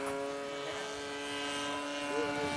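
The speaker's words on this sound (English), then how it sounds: "that triplane is using a Zenoma 26 engine" A giant-scale RC Fokker Dr.1 triplane model fitted with a Zenoma 26 engine drones steadily in flight at a WWI warbird event, a continuous buzzing engine hum at moderate distance with slight pitch shifts.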